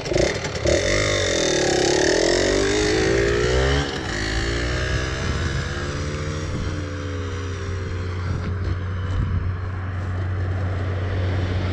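A Yamaha DT 125 two-stroke motorcycle roars past close by, its loud engine note rising and then falling away as it passes, with the drone continuing steadily afterward and no talking.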